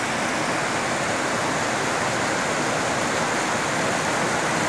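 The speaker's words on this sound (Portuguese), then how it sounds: "Aí o riozão." A big river flows in a steady, loud, broadband rush of water, close by and unbroken, with no voices.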